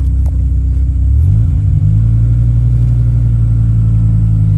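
A 2001 Dodge Viper RT10 Roadster's engine rumbles loud and close, dipping briefly as the car pulls away, then settling into a steady deep drone.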